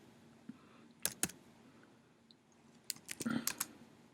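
Someone types on a computer keyboard in two short, sparse bursts of sharp clicks, one near the start and a quicker cluster toward the end, in a quiet room with no speech.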